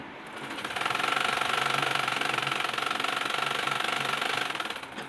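A sewing machine running after its fabric feed was repaired: a loud, steady mechanical whirr with rapid needle clatter that rises as it starts and keeps an even pace for several seconds before slowing.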